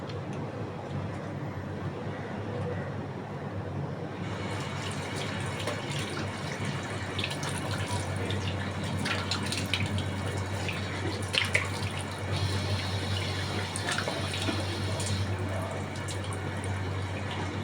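Steady running water at a sink while rinsing off a facial wash, continuous and moderately close, with a steady low hum underneath and a faint voice partway through.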